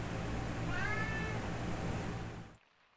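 A cat meowing in The Sims 2, a drawn-out, wavering cry over a low steady hum, which cuts off abruptly near the end.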